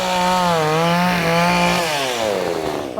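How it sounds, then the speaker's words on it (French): A chainsaw cuts through thick stacked layers of cardboard, its loud, steady engine whine sliding up and down in pitch as it bites through the material, alone and close. "Attention, tronçonneuse."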